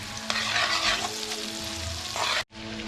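Tomato paste frying for chicken kabsa, stirred in a pot: a loud, dense sizzle with scraping strokes throughout, briefly cutting out near the end before resuming.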